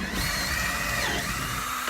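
A power drill runs continuously up close, loud and whining, while it removes bolts from the sound bar of a Jeep Wrangler JK. No one speaks over it.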